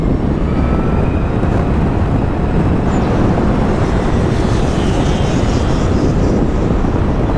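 A Zero FXE 7.2 11kW electric motorcycle accelerates hard on the throttle, a loud, steady rushing roar heavy with wind buffeting on the microphone that holds evenly throughout.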